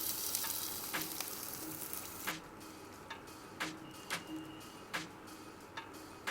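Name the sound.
stirring rice into frying garlic chicken in a pan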